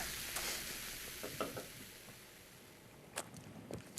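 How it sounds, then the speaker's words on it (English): Diet Pepsi Wild Cherry soda fizzing after being poured, a soft continuous hiss of bubbles with faint crackling pops, close and quiet, with no voices. "Tonight, my new favorite, Diet Pepsi Wild Cherry. Love that sound."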